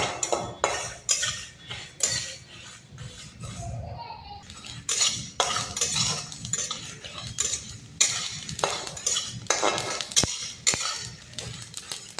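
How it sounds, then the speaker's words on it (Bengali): Dry whole spices and dried red chillies toss and scrape in a hot kadai for pickle-making, with repeated metallic stirring clinks and scrapes over a soft steady sizzle, close and busy throughout. "সব একসাথে ভেজে নেব"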